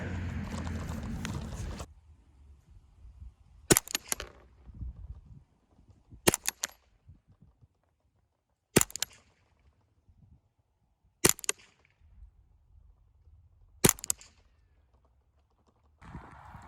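Five sharp .22lr rifle shots with Aguila ammunition ring out at a 50-yard outdoor range, evenly spaced about two and a half seconds apart, each a crisp close crack with quiet handling noise between.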